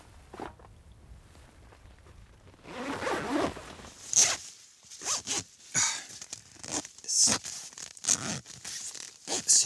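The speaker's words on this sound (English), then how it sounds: "Zipper." A clothing zipper is pulled open inside a small wildlife-watching hide, drawn in a series of loud, close rasping strokes with pauses between, amid soft rustling and shuffling.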